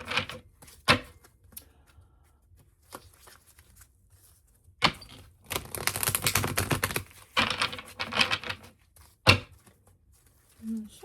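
Tarot cards are shuffled in quick crisp bursts of riffling and tapping, separated by pauses, close and fairly quiet.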